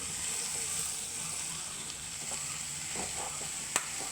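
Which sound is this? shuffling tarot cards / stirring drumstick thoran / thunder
stirring drumstick thoran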